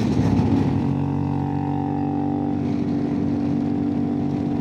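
A CFMOTO 450MT motorcycle engine under way, a loud steady drone with a strong humming tone held throughout, heard close and alone without speech.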